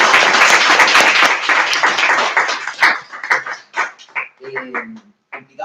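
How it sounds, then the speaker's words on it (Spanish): Loud applause and clapping from an audience welcoming a world-champion debater at a critical-thinking talk, dense at first, then thinning into scattered claps and tapering off, with a few voices emerging near the end. "pido un fuerte aplauso"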